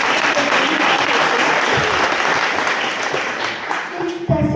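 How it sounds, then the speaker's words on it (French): A room of guests applauds during a volunteer appreciation evening, loud dense clapping that fills the clip and tapers slightly before a voice cuts in at the very end. "Une bonne main d'applaudissement pour Mamie!"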